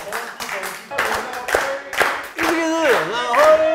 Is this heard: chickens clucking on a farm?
no